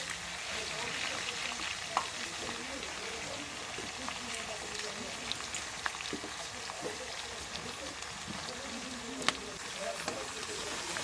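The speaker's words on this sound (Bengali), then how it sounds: "একটু ভালো করে ভেজে নেব আলু সিদ্ধ।" Boiled potatoes frying with cauliflower in a pan give a constant, even sizzle and crackle that fills the clip, with occasional small pops and stir sounds, heard close and moderately quiet.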